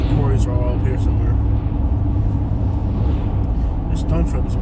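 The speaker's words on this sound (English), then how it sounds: "This dump truck has been like 3 feet off the road the whole time." A dump truck drives along a road on a foggy morning commute from Lehigh Acres to Immokalee, Florida, heard from a following vehicle as a steady, loud low rumble of engine and road noise that runs continuously throughout.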